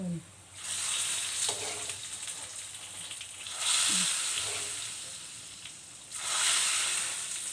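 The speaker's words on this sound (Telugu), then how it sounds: "తాలింపు అనేది బాగా వేయింది" Steady loud sizzling hiss with two sharp surges as hot tempering oil is poured into dal with mutton bones, crackling continuously without any talking.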